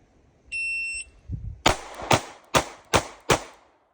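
Sig P365 pistol fired five times in quick succession at a shooting range, loud close sharp reports following a high electronic timer beep.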